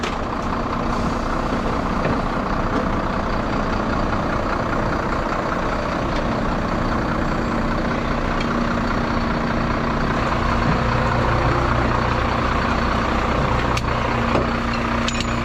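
A 26-ton truck's engine drones loud and steady throughout a heavy winch recovery from a ditch in the UK, with faint beeps in the background.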